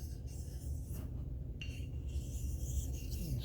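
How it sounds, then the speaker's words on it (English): A steel blade scraping across a saxophone reed, a steady close rasping rub with short strokes that run on without pause, no talking. "make sure that my scraping is really clean"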